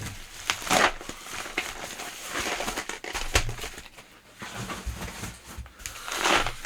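Small package of metal screws from an AliExpress order being handled and unpacked, giving close, intermittent crinkling and rustling of packaging with light rattles, in bursts of varying loudness.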